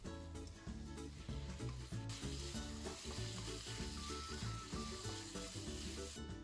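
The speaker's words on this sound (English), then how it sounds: "add the Xiang sauce. Fry with high temperature." Fish-flavored pork (Yu Xiang Rou Si) stir-fried with Xiang sauce over high heat in a Sichuan-style dish, giving a steady, close sizzle that runs throughout beneath a layer of background music.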